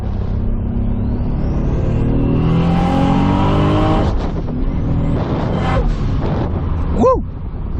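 A Toyota MKIV Supra accelerates hard on an open road under turbo boost, its engine note climbing through rising sweeps, loud and close, with a brief excited voice near the end.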